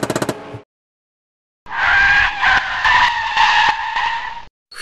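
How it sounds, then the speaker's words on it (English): A vehicle's air brakes lock up in a long, loud tire-skidding screech of about three seconds, after a brief clatter and a pause of silence. "Air brakes."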